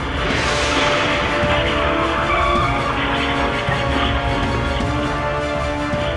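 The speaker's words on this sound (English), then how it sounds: "The BMW M4 driver hit the gas in reverse, hard, sending the car flying backward and slamming straight into a streetlight," A BMW M4 screeches with tire squeal and engine roar as it reverses hard toward a streetlight; the skid sound is loud and continuous, with no distinct impact standing out.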